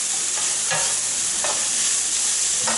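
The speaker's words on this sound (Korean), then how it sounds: "다음 볶아주세요" Squid sizzles loudly in a hot pan with gochujang sauce, with no talking, and a spatula stirs and scrapes it at roughly regular intervals.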